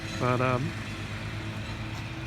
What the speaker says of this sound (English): figures I start recording and lawnmowers start.